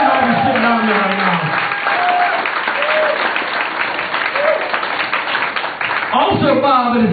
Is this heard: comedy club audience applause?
yes